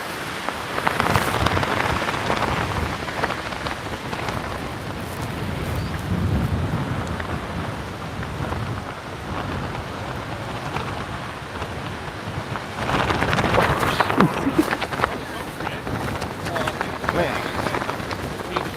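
Tropical Storm Nicole batters St. Augustine, Florida, with wind roaring and buffeting the microphone while heavy rain hisses steadily. The gusts swell strongly near the start and again past the midpoint.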